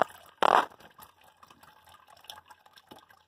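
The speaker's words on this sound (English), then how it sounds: "Can't be running water like this." Tap water runs into a sink, with a loud splashing burst early on that settles into a softer, uneven trickle with small drips.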